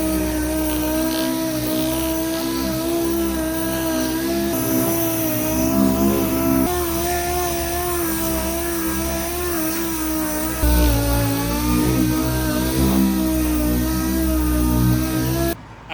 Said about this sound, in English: I'll take some 500 grit on the DA right around the damage area